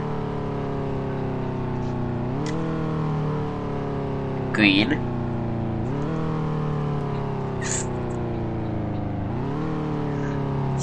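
Car engine revving repeatedly in a Roblox obby video game, a steady droning motor whose pitch sweeps up in several rising surges, with a brief voice heard over it.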